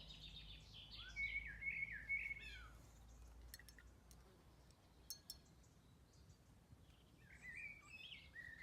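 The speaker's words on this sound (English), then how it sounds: "It's a beautiful blackbird behind me." Rich warbling phrases of a blackbird singing outdoors, a burst early on and another near the end, with faint clinks and a steady low hum in between.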